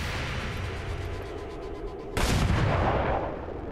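Gunfire exchanged in the video game XCOM 2, a steady wash of distant battle noise that erupts into a louder, dense burst of shots partway through and rolls on to the end.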